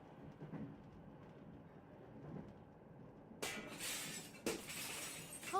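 Partway through, a glass skylight shatters loudly in the Secret Files: Tunguska adventure game, a sudden bright crash followed by a second burst of breaking glass and tinkling shards over quiet background ambience.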